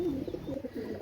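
A pair of Saki teddy fancy pigeons coo softly and briefly, a low rounded throaty burble heard close up with no talk.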